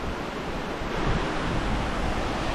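Crystal Creek Falls waterfall pouring steadily nearby, a dense continuous roar of falling water with a slight swell midway and no voices.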